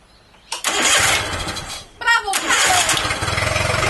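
A Yamaha 9.9 hp four-stroke high-thrust outboard, recently repaired after a no-spark charge coil fault, cranks twice with a key and fires up, settling into a loud, close, steady idle.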